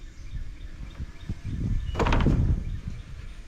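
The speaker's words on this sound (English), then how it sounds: "I think you can open the door" An old wooden smokehouse door, a replica of a 1920s farm smokehouse, swung open with a few knocks and a creaking scrape near the middle, close and fairly loud.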